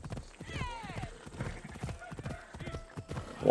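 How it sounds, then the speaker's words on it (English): Horse hooves clip-clop in Assassin's Creed Odyssey, a steady trot with a brief whinny early on, heard at moderate level under game ambience. "Get the fuck off the freaking horse"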